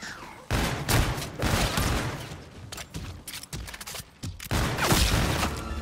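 Loud, dense bursts of automatic gunfire in Call of Duty: Infinite Warfare, near and rapid, with short pauses between volleys and mechanical clatter mixed in.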